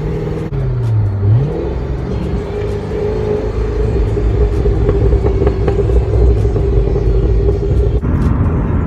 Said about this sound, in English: Let's see if I can get some pops out of this exhaust.